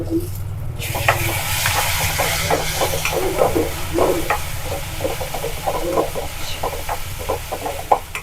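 Tomatoes sizzle in a hot pan while ragi upma is being cooked, giving a steady close hiss of frying with small crackles and pops throughout.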